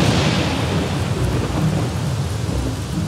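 Rain and thunder in a video game, a steady loud wash of rainfall with a deep rolling rumble underneath, continuous and close, no voices.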